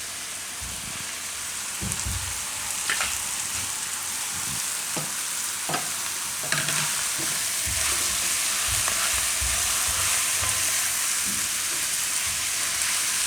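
Colocasia (patra) leaves frying in a pan for turiya patra shaak, with close sizzling and a few scraping stirs of a spoon against the pan over a continuous hiss.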